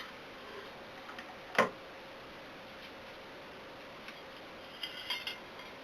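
A slice of sweet potato pie is pried from its pan, giving one sharp metallic clink of utensil on pan followed by a few faint scrapes and taps in a quiet room.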